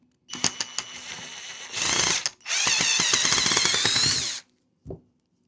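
Power screwdriver driving out the recoil pad screws on a Morisson lever-action rifle, with a few short clicks followed by two sustained whirring bursts, the second longer, and a brief final blip, close and fairly loud.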